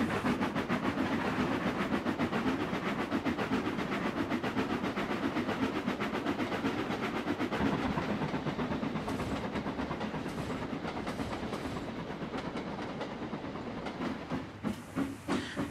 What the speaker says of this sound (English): So Henry puffed onto the terminus where he had a rest.